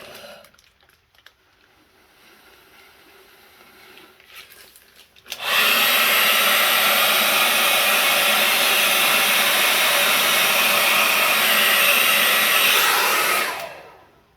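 Hair dryer blowing out hair, switched on after a few quiet seconds with faint handling noise, then a loud, steady close roar for about eight seconds before it cuts off.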